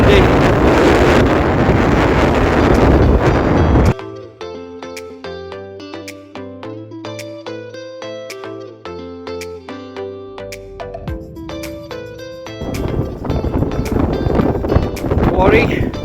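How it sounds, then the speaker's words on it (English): Gusty wind buffets the microphone on an exposed mountain in the Brecon Beacons, a loud roaring rumble at the start and again near the end, with a stretch of tonal music in between. "A bit windy."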